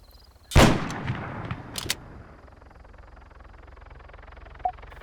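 A single loud sniper rifle shot cracks in Arma 3, booming sharply and then rolling off into a long fading echo, with a faint metallic click a little later.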